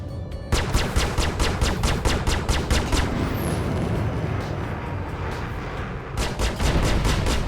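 A missile launched in a jet combat video game, a loud rushing roar amid rapid repeated gunfire bursts and steady engine noise throughout.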